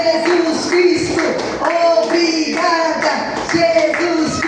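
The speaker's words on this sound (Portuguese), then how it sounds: "Mais palmas para Jesus" A church congregation applauds steadily and loudly through a service, with voices and music carrying over the clapping.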